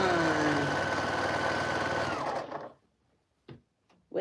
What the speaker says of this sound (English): So I'm hoping that this bobbin can keep us sewing for the rest of this live.